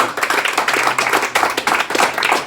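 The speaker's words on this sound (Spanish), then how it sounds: "le damos una prueba de palmas al Señor" Church congregation clapping hands together for the Lord, a dense, lively burst of many palms close by with a steady pulse and a faint voice underneath.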